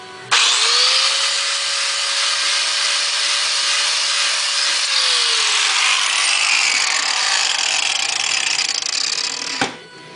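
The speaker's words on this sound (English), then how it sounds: "this is a brand new 40 grit flap disc" An angle grinder fitted with a brand new 40 grit flap disc grinds mill scale off hot rolled steel, a loud, harsh, continuous whine with the motor pitch sagging under load before spinning down at the end.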